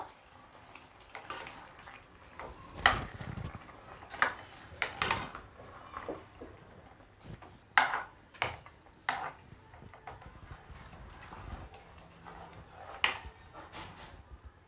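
Grated carrot halwa is stirred with ghee in a pan, giving quiet, irregular knocks and scrapes of a spoon against the metal, spaced out over several seconds with soft pauses between strokes.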